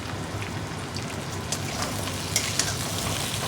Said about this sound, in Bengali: বাট এখন ভাবলাম যে একটু ভেজে নিই, একটু লাল লাল হয়ে যাবে